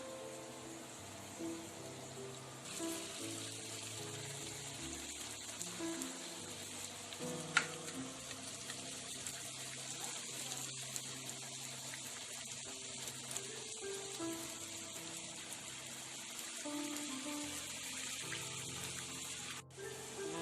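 Kueh badak dough deep fries in hot oil, giving a faint, continuous bubbling sizzle that runs steadily throughout with a brief clink partway, no one speaking over it.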